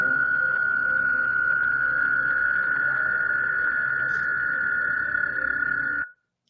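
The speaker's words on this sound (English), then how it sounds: "Here's an example of a frog creating a pressure wave by emitting a sound." A frog croaks in one long, steady, buzzing call that holds evenly for about six seconds before stopping abruptly, loud and close with nothing else over it.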